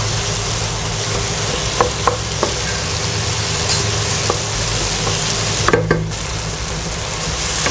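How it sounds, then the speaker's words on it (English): Mutton keema sautéed in a pan for a dhaba-style aloo keema matar, a steady dense sizzle with occasional scraping stir strokes and light clinks, close and continuous with no talking. "I'll saute this really well."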